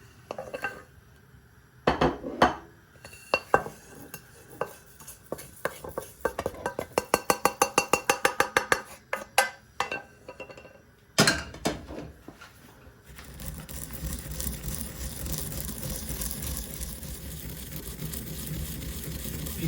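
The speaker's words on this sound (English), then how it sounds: "get my pestle and mortar" Toasted whole spices pounded and ground with a pestle in a mortar for a chicken pilaf, giving a run of sharp rhythmic knocks and clinks that quicken into rapid tapping before a steady scraping grind takes over.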